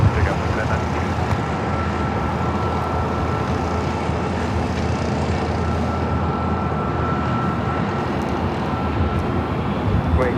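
A jet airliner taking off from runway 24 left at LAX, its engines a steady broadband roar that holds loud and even throughout, with radio voices talking over it.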